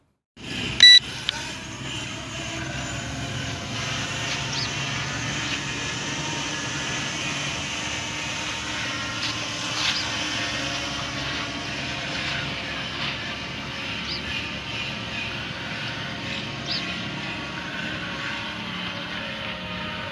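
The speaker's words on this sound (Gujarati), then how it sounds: "तो देखी सकते ड्रोन आप उड़ी रही है।" A steady high-pitched motor whine drones continuously after a brief start as a small M3 MAX multirotor drone with brushless motors takes off and flies nearby.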